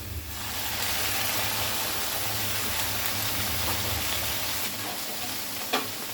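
Eggplant frying in a pan as a little water is added, setting off a loud, dense, continuous sizzle like heavy rain that holds steady close up, with one small clink near the end.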